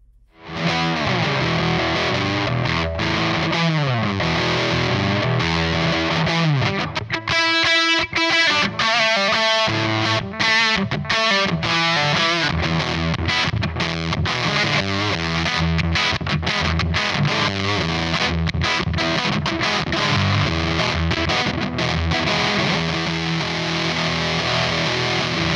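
An electric guitar plays through a fuzz distortion pedal on a pedalboard, a thick, saturated and continuous tone with sustained chords and riffs, loud and close throughout with no talk.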